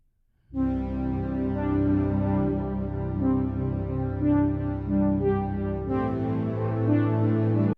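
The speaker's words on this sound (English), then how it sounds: "So it all started with this synth loop that I had here." A three-section retro synth loop for an indie pop song plays alone, sustained chords with a bright upper layer that thickens in the final section before cutting off.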